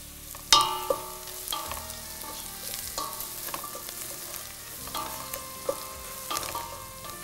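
Onions with turmeric powder sautéing in a pan, with a steady low sizzle under repeated scraping and stirring clatter from a spatula, several sharper clinks standing out, close and moderately loud with no talk.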